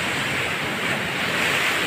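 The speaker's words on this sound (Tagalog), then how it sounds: "Sobrang lakas ng alon." Powerful surf roars without pause against a seawall, thick and close, mixed with wind rushing over the microphone.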